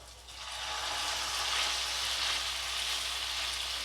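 Chicken and potato chops fry in a generous amount of hot oil, giving a steady, loud, close sizzle that runs unbroken from start to finish with no voices.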